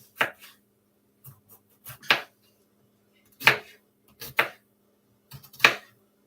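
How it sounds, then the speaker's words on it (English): Knife chopping potatoes on a board in a home kitchen, sparse sharp chops spaced apart in pairs and singles, close and clear with no talking. "I don't need a chopping machine. I know how to chop."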